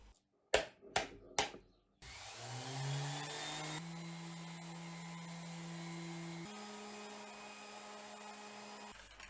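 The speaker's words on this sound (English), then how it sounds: "Now that the rough sanding is done, let's move on to finish sanding." A power sander finish-sanding a wooden table, starting after three sharp knocks, then a steady whining drone that shifts pitch partway through, fairly quiet and alone.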